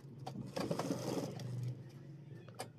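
A sewing machine stitching a lined pant waistband, a short, faint mechanical whir with a quick rhythmic needle pulse in the middle, then a softer tail with a click.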